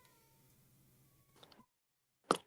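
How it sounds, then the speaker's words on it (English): A pet cat meows from another room, muffled and quiet, with a couple of brief cries and one slightly louder yowl near the end. "my cat's screaming in the other"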